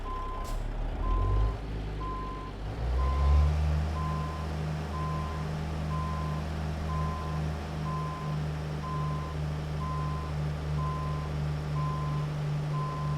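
A truck reverses with a steady, evenly pulsed beeping alarm over a low, droning diesel engine that rumbles up after a few seconds, close and continuous with no talking.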